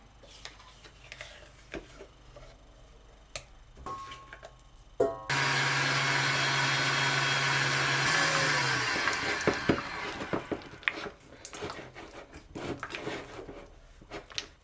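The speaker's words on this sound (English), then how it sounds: "Fergal is going to whisk the double cream in the mixer" An electric mixer whisks double cream for an Easter cheesecake, its loud steady motor whir starting abruptly after quiet kitchen clatter and running for several seconds before tapering back into light knocks and clicks.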